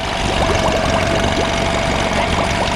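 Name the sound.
old sailboat engine running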